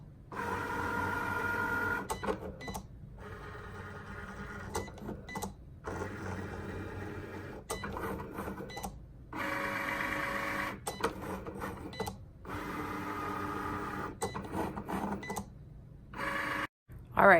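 A Cricut cutting machine cuts a card in repeated short mechanical bursts separated by brief pauses, a buzzing motor whir close by, with a voice speaking faintly underneath.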